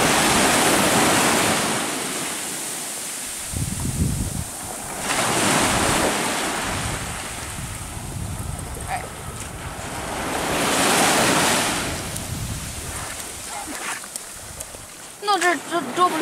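Surf surging and breaking on a beach at Minard, County Kerry, with heavy wind buffeting the microphone; broad rushing swells rise and fall throughout, loud and close, with no clear speech.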